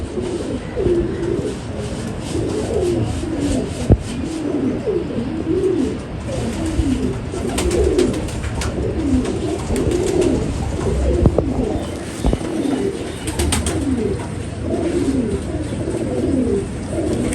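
Pigeons coo steadily and softly in repeated low rolling calls, several birds overlapping close by among Golden breed pigeons, with no voices.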